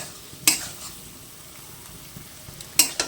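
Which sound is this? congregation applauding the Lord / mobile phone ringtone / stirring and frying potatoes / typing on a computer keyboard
stirring and frying potatoes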